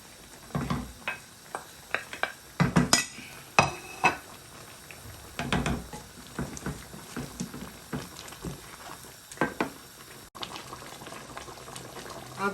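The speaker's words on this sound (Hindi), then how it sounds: "ये सब मसाले डाल के हम अच्छे से भूनेंगे" Whole spices, fenugreek, cumin, dried coriander and salt roast and get stirred in a pan for chicken korma, giving scattered scrapes and light clinks over a soft steady sizzle, close and fairly quiet.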